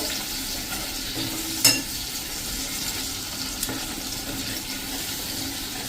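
Tamarind and jaggery paste goes into a pot of cooking lima beans, with soft stirring, faint sizzling and watery bubbling close by, plus a couple of brief knocks against the pot.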